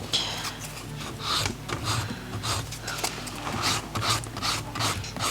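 A nail file rasps back and forth over an acrylic nail capsule in quick, even strokes, a close scratchy rubbing that repeats steadily for several seconds.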